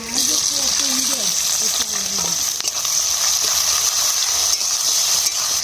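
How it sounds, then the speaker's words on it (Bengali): Dry chillies, bay leaf and onion sizzle steadily in hot oil as a Bengali chicken dish is tempered, a loud continuous frying hiss with occasional stirring scrapes and a voice briefly over the start. "শুকনো লঙ্কা ফোড়ন করব, তেজপাতা দেবো, পেঁয়াজ দিয়ে দেবো"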